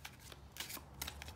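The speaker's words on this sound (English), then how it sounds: "One more shuffle." Tarot cards being shuffled close by, a few quick riffling bursts over a second or so, no talking.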